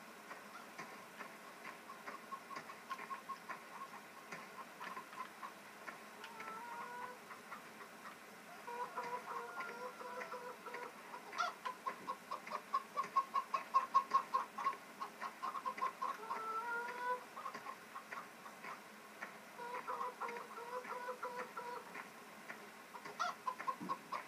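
Chickens in Farming Simulator 2015 cluck in faint, repeated bursts, heard alone over a quiet background for the whole stretch.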